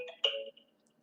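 A mobile phone gives a short notification chime, a couple of bright tonal blips within about half a second, close and fairly quiet, then silence.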